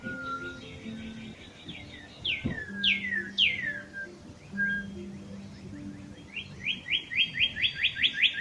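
A bird with red feathers sings outside a window, giving bright whistled phrases and sweeping chirps, ending in a fast repeated run of clear notes, moderately near against a quiet background.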